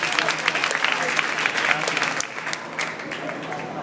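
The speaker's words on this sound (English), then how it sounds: "let's give her a round of applause" An audience at a panel event on early childhood education and after-school systems applauds a speaker, giving steady, dense clapping throughout that fades slightly toward the end.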